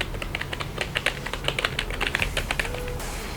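Clicky keys on a Vertux gaming keyboard from a 4-in-1 starter kit, typed in a quick, uneven run of sharp, close taps with no voice.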